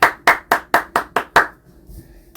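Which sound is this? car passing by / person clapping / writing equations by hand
person clapping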